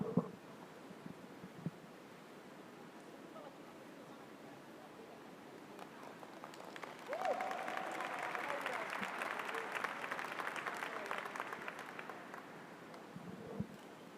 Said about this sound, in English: So we heard some applause.